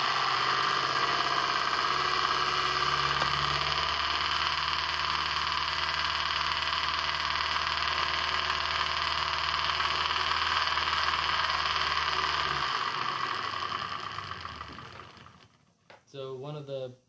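A small electric motor runs at 6 volts with a steady, close, even whirring hum for around thirteen seconds before spinning down, and a voice speaks briefly at the end.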